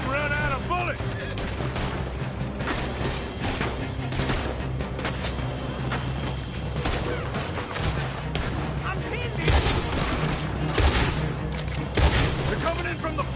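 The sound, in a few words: gunfight in video game Red Dead Redemption 2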